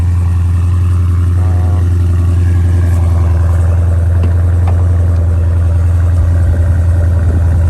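A car with its stock exhaust runs outdoors on a cold, windy day, giving a loud, close, steady low engine drone with a constant rumbling hum that never changes for the whole stretch.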